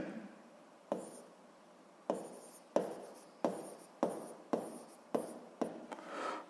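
Chalk or pen writing notes for a seventh-grade physics exercise: a steady run of about nine short tapping strokes with brief scratchy tails, fairly regular and close, with no voice over them.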